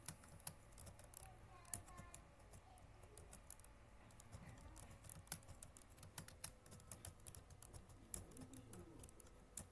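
Keys clicking on a computer keyboard while text is entered in MS Office, a quiet, irregular patter of taps at close range with faint room noise behind.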